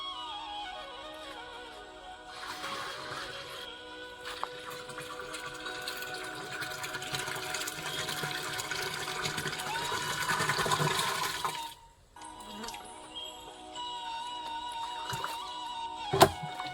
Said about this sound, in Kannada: ಅದ್ರ ಜೊತೆಗೆ 12 ಲೀಟರ್ ಹಾಲನ್ನು ಹಾಕ್ತಾ ಇದೀವಿ.